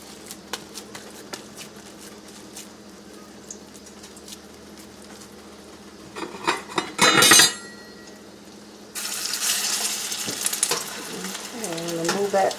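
Salmon patties frying in hot oil in a pan give a quiet sizzle, with a short burst of clatter midway, then a louder, steady spitting sizzle once another patty goes in.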